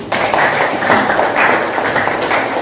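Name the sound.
classroom applause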